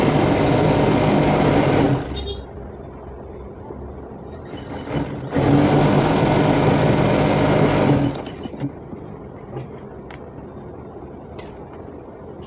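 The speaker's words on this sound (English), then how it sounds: "I'm going to be running the stitch right now on the sleeve." An electric sewing machine stitches a sleeve of an Isiagu outfit in two loud, steady runs of about six and three seconds, separated by quieter pauses with faint handling noises.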